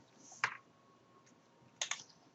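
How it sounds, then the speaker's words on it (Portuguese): Computer keyboard keys, including the 5 key, are pressed during 3D terrain modeling, making two close clusters of crisp clicks about a second and a half apart against a quiet room hum. "Agora eu digitei a tecla 5, que bota na vista plana do UCS atual"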